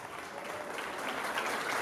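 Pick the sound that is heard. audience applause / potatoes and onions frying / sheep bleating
audience applause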